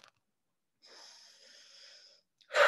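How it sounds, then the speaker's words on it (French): A deep breath drawn in through the nose, a long airy hiss lasting over a second, followed after a pause by the start of a forceful exhale through the mouth, close and alone. "prendre 3 grandes aspirations par le nez et me faire 3 grandes expirations par la bouche"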